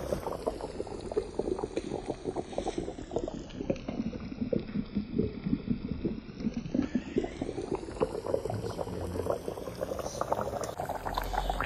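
Goan fish curry bubbling at a rolling boil in a pot, a continuous close, dense bubbling and popping that holds steady throughout with no talk.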